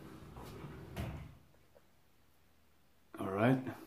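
A shower door is opened with a soft thud and slide, a brief clunk in a quiet bathroom, followed by a pause and then someone speaking.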